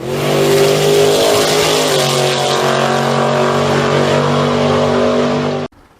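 Ford-powered Fox body Mustang street car with a stock-block small block engine, revving loud and close with strong harmonic roar, held for several seconds before cutting off abruptly.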